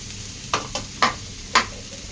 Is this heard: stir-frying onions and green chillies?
yes